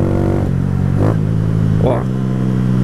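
A Honda CG 125 Fan motorcycle with a Fortuna sport exhaust idles nearby, then blips its throttle twice in quick succession. Each rev rises sharply and falls back to a steady, throaty idle.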